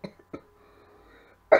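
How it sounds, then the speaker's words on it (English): A single sharp cough from someone with a bad cold, close and loud, following a couple of softer throat sounds and a quiet stretch. "I've just got a terrible cold."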